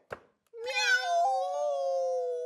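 A single drawn-out cat meow, close and clear, follows a short sharp click.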